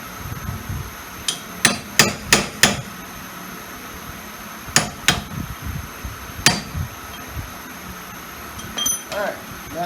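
Hammer striking a screwdriver or punch against a lug nut while replacing rear wheel bearings on a Yamaha Rhino 660, a burst of five sharp metallic clanks, then a few more spaced hits, close, with someone talking.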